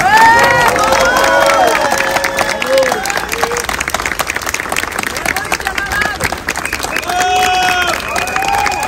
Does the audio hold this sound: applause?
yes